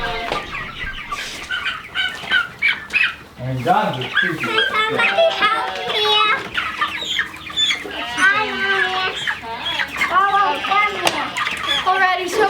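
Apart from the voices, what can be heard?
meat chickens clucking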